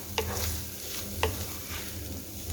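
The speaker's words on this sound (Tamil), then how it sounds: "இதை நம்ம நல்லா நெய்யில் லைட்டாக வறுத்து எடுக்கலாம்" Grated coconut fries lightly in ghee for coconut laddu with a steady, close sizzle. A couple of sharp scraping clicks come from a spatula stirring the pan. Nobody speaks.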